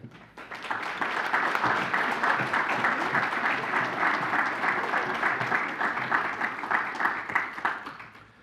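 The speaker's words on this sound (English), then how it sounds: "round of applause for Miss Allison Collins" Sustained audience applause at a Wilkes County Hall of Fame ceremony, steady, dense clapping that swells in quickly, holds for several seconds and tapers at the end.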